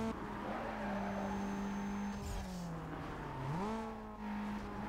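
A car driving in Need for Speed Most Wanted (2005), a steady engine drone that dips and climbs again with gear changes, moderately close and alone with no talk.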